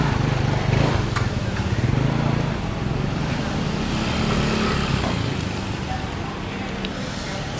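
Motorcycles and street traffic pass along a lane in a 17th-century Malaysian island town built on wooden stilts. Engine rumble rises and fades as bikes go by, moderately close, over a continuous outdoor wash of background noise.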